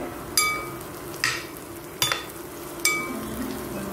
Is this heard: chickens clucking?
no